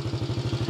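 Motorbike engine chugging in a fast, even pulsing rhythm of low putters, close and moderately loud, heard alone for a brief moment.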